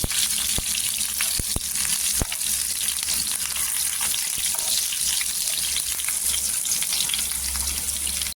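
Garlic with fresh curry leaves frying in hot oil for a quick potato bhaji, a loud steady hiss and crackle with occasional sharp pops and stirring clicks.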